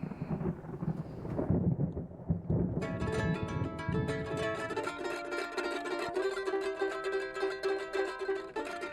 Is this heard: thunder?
yes